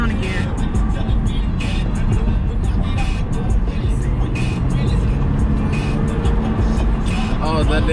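A BMW car's engine hums steadily as it drives and gets a little gas, with constant road and engine noise throughout and people talking over it.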